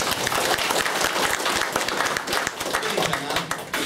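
An audience at a health product testimonial talk applauds, a dense, continuous patter of many hands clapping at close range for several seconds, with some voices mixed in.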